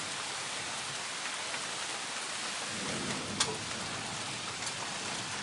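Heavy rain pours steadily during a thunderstorm outside a porch, a dense continuous hiss of drops with a faint low rumble swelling partway through.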